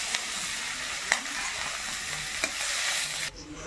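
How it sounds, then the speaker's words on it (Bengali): Dried red chilli and white cumin frying in hot oil, giving a steady close-up sizzle with a few faint clicks of a spoon stirring, and no talk. "তেলের মধ্যে দিয়ে দিচ্ছি শুকনো লঙ্কা, সাদা জিরে"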